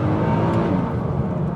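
A 2014 Nissan GT-R engine roars loud and close in a continuous, dense drone with no gaps while the car pulls under acceleration.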